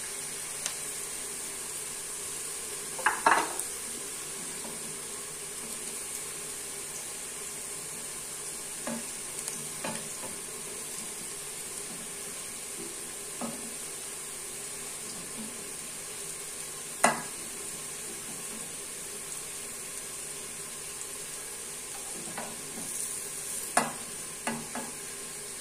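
Bitter gourd (karela) fries in a pan with a steady low sizzle, broken by occasional scraping clinks as a spoon stirs it, close and fairly quiet.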